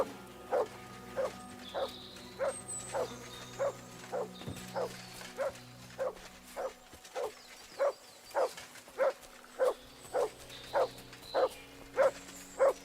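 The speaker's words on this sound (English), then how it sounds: "What is Mutt barking at?" A dog barks in steady, evenly spaced single barks, about twenty in a row, over a low continuous background hum and soft ambient music in the video game Kingdom Come: Deliverance II.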